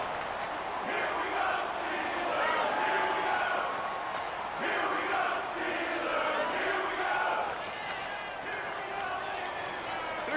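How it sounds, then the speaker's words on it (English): Stadium crowd in the Madden NFL 19 football game roars steadily throughout, a dense wash of cheering and shouting that swells in waves and stays loud and continuous from start to finish. "the crowd getting into it as we come up on a big 3rd down"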